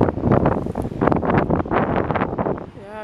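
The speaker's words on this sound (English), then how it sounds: "it's getting windy." Gusty wind buffets the microphone on a coastal trail in Scotland, a loud, rough, uneven roar lasting the whole moment and easing slightly at the end.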